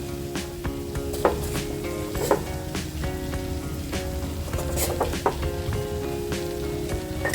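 Dried mango, dates and masala pickle stirred in a pan over a low flame, with steady sizzling and frying crackle and a few soft clinks of the spoon against the pan throughout, no voices.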